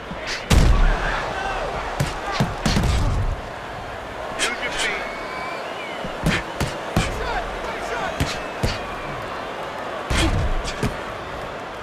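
Punches land in the Fight Night video game, heavy thuds and sharp slaps arriving in irregular clusters under steady commentary.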